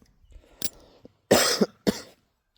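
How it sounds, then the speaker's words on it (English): A few sharp coughs close to the microphone, one brief cough followed by two louder bursts with short pauses between. "Sorry about my cough."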